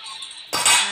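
A metal lid set down onto a cooking pot while preparing banana plant with mustard paste, giving one sharp, bright clank with a brief ringing decay, close and fairly loud after a quiet moment.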